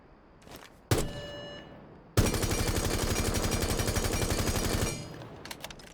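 Automatic gunfire from a rifle fitted with a muzzle attachment in Rainbow Six Siege, a single shot followed by a long, rapid sustained burst of loud, close shots lasting several seconds, then scattered faint clicks.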